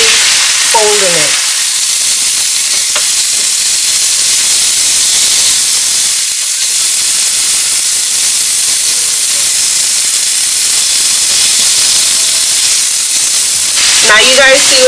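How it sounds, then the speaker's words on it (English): Ackee and saltfish gently folded in a hot pan give a loud, continuous close sizzle and steamy hiss, with brief spoon scrapes at the start and end. "I'm going to gently stir it. Literally folding it."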